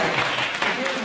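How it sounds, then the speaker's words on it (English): A brief, dense wash of audience applause fills a hall at a Head Start Sneaker Ball held at Woodrow Hall. "lene Reynolds, who is the director of JCCDC, can we please give her a round of applause for that?"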